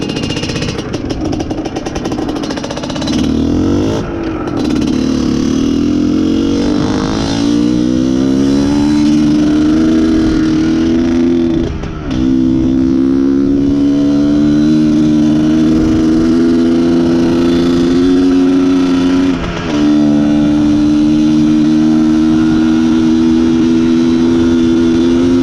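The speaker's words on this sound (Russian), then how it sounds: "Слышите, как он сбрасывает обороты? Очень бедно." Izh Planeta Sport motorcycle engine running on a lean mixture, loud and close, revving and then dropping its revs with a wavering, uneven idle that surges in pitch over a long stretch, no talk.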